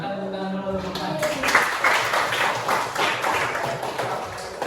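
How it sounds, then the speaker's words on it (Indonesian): Classmates clap for a group that has just presented in a classroom exam on basic explaining skills, a burst of scattered hand claps that starts right after a brief voice and carries on steadily to the end. "Silakan tepuk tangan dulu teman-teman"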